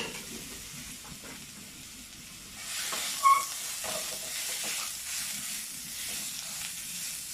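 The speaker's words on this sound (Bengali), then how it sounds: "এখন আমি সেই সেদ্ধ করা লাউয়ের কুচিগুলো দিয়ে দিব। এটা আমি ভালো করে ভেজে নেব।" Chopped boiled bottle gourd fries in ghee with a soft, steady sizzle that swells a little partway through, joined by a faint clink from a utensil; quiet and even, with no talking.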